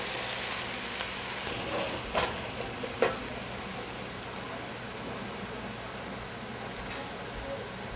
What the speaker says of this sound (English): So you need to constantly stir the onion or it will burn.